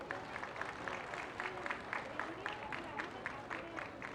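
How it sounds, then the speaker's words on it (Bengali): An audience at an NGO yoga program claps together in quick, evenly spaced bursts, faint and distant, with light crowd murmur underneath. "করতালির মাধ্যমে উৎসাহ প্রদান করুন"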